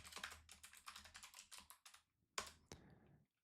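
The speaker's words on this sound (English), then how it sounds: "We're going to type in our email." Rapid clicking of computer keyboard keys as an email address is typed, in bursts of close, crisp keystrokes with a short pause before a few final louder taps.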